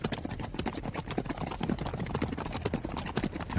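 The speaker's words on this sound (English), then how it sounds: "The sounds of horses echoed like thunder." Several horses' hooves clip-clop steadily on hard ground, dense and moderately loud, with a fast overlapping rhythm that suggests a group of riders approaching; no voices.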